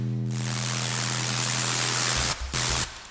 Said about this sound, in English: And I can control the level of distortion.